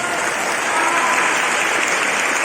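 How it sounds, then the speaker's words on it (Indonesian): An audience at a school performance claps in dense, steady, loud applause that stays even throughout. "Tepuk tangan semuanya."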